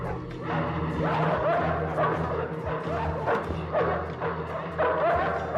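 A big boss's dog set on a fighter in a Bruce Lee martial arts film, giving a rapid string of loud, close barks and yips mixed with whimpering over a busy soundtrack.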